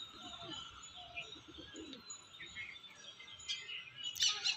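Male pigeon, a Kaldúma fancy breed kept in a home loft, cooing softly and repeatedly at close range, with faint chirps and light rustling in the background.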